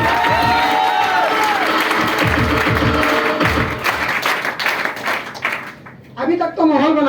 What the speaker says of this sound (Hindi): एक बार जोरदार ताली होना चाहिए हमारे न्यू गेस्ट लोगों को